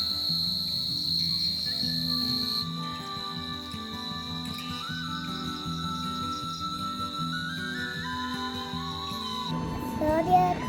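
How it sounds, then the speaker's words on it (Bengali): Crickets chirp at dusk in a quiet village, steady high trilling held throughout with a few overlapping insects shifting pitch, and faint distant voices beneath them near the end. "আধার নামছে ঝিঝি পোকাগুলো ডাকছে"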